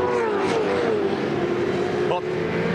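Race car engine at the 1999 Queensland 500 touring car race, a steady high-revving drone being worked hard out of a corner, continuous and loud with commentary talk over it.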